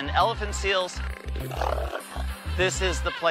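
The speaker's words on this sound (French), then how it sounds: "Les sons, les odeurs, les manchots, les éléphants de mer." Elephant seals and penguins on a South Georgia beach, with deep rhythmic pulsed grunting repeating steadily beneath someone speaking, and higher calls mixed in near by.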